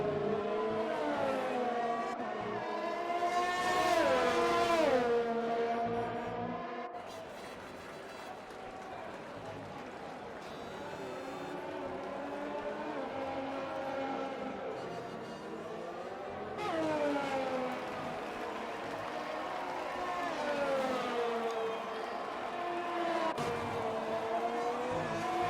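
Race cars in a racing video game at a Spanish circuit, engines whining and shifting pitch continuously as they pass, heard under a commentator talking.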